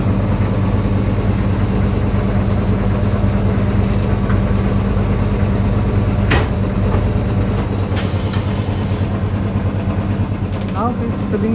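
An air compressor fills a new tyre on a Suzuki Swift ZXi at a tyre shop: a loud, constant droning hum throughout, with a sharp burst of hissing air near the end.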